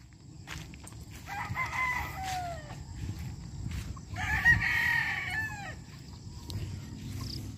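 A Boston Black gamefowl rooster crows twice, each crow a long drawn-out call, over soft farmyard clucking and shuffling, with a few sharp clicks in between.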